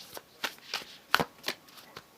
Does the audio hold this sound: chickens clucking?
no